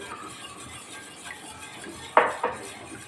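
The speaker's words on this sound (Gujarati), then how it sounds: "તરત જ આ રીતના હલાવી હલાવતા રહીશું જેથી દહીં આપણે એડ કર્યું છે તો દહીં આપણું ફાટે નહીં" A spoon stirs yogurt kadhi in a pot over a medium-low gas flame, giving soft, quiet scraping that ends in two sharp metallic clinks against the pot's side.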